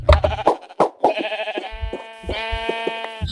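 Sheep bleating in the Minecraft Tekkit video game, several harmonic, wavering bleats following a few sharp clicks and thumps, loud and close.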